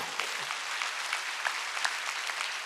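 A congregation applauds during a Korean church worship service, a steady, fairly distant patter of many hands clapping that continues evenly throughout.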